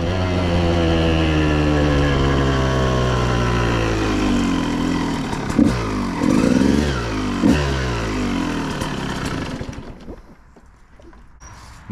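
A KTM supermoto motorcycle engine revving hard and climbing through the gears, pitch rising and dropping at each shift before easing off to a quieter idle.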